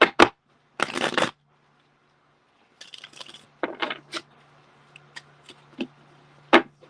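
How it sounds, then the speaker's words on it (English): Several bursts of papery riffling as tarot cards are shuffled, with short pauses and lighter taps between them, close by and fairly quiet, with no talking. "One more shuffle."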